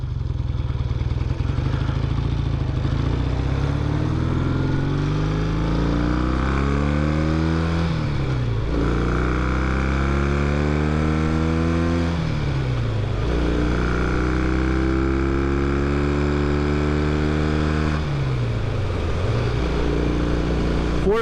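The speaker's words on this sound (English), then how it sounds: "let's do this one kind of high speed run again. just so you can, and I'll shut up and you can hear the bike" A 1965 Triton motorcycle engine roars loudly and continuously on a high-speed run. Its pitch climbs through each gear, then drops sharply at several shifts, with wind rush close to the rider.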